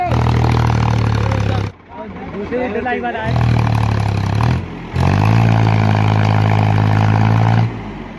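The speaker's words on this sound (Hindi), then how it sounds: "तो फाइनली ट्रैक्टर आ चुका है मेरे पहलो" A tractor hauling a load of about 2,500 bricks rumbles in loudly with a steady engine drone, cutting out briefly twice before resuming, while people talk over it nearby.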